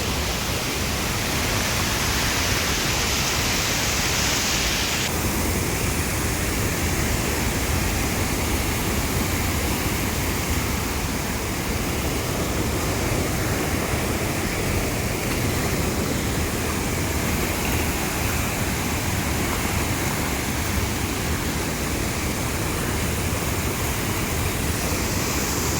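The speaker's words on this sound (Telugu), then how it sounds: "అదిగోండి, అదే వాటర్ ఫాల్స్." The waterfall at Pennahobilam, a hidden temple site in Andhra, pours in a constant dense roar, close and loud throughout with no talk.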